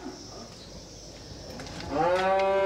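At a beef farm, a single cow lets out a loud, drawn-out moo near the end, rising over low farmyard background noise.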